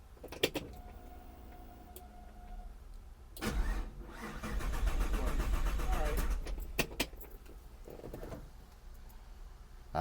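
A car with a dead battery is cranked to start, a sputtering churn mid-clip surrounded by clicks, door or window noises and people talking nearby.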